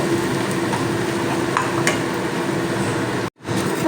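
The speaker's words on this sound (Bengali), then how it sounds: "এবারে আমি ওই পেস্ট দিয়ে দিলাম দিয়ে আরও দু থেকে তিন মিনিট কষাবো" Mustard spice paste stir-fried in a pan for a hilsa curry, with a steady low sizzle and occasional faint scraping, cut off by a brief drop into silence near the end.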